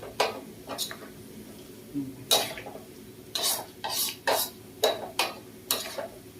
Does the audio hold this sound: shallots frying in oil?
yes